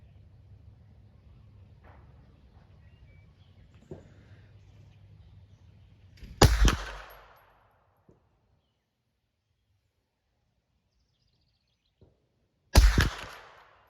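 A Ruger PC Charger pistol fires 124 grain ammunition outdoors, two sharp loud shots about six seconds apart, each followed by a short echoing tail, with faint low background noise in between.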